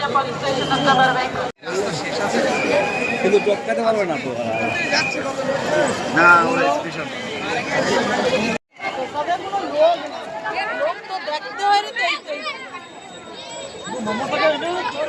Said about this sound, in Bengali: এখনও কিন্তু এরকম বিভৎস ভিড় রয়েছে মানে মন্দির যতক্ষণ খোলা থাকবে ততক্ষণ বিভৎস ভিড়